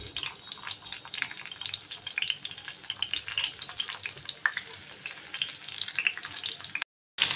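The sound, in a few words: stuffed bitter gourds frying in a pan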